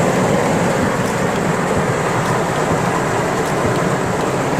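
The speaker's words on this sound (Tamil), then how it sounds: "செம்ம மழை பாருங்க." Heavy early-morning downpour, a dense and constant roar of rain hitting surfaces at close range, steady and loud throughout with no talking.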